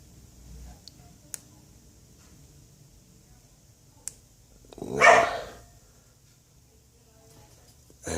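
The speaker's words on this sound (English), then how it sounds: "Anybody comes to the door in this house, the dog just goes mental" A house dog barks at someone arriving at the door: one loud, rough burst midway through an otherwise quiet room, with a few faint clicks around it.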